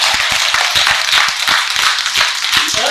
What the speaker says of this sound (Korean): 박수 좀 쳐.